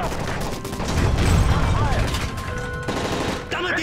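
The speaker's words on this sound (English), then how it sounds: "That's gunfire!" Rapid automatic gunfire rattles in dense bursts during a Call of Duty: Modern Warfare 3 shootout, loud and close, with shouted voices mixed in.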